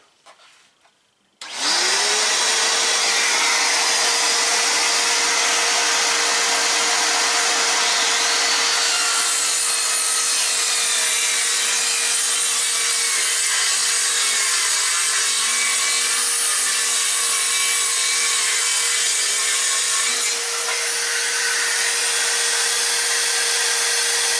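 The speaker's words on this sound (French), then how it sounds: "Je mets l'aspirateur, on fait une coupe." A circular saw spins up to a loud, steady whine and cuts through OSB board for about twenty seconds, its pitch dipping slightly under load.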